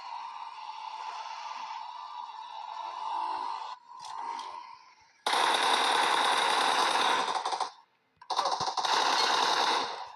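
An M4 rifle fires long automatic sprays in PUBG, loud rapid bursts that come in dense blocks with short pauses between them, preceded by quieter humming game sounds.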